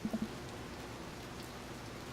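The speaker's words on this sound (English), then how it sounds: "It's still raining a little bit." Light rain falls in the dating game Dream Daddy, a faint, steady hiss of drizzle with a few soft low taps at the start.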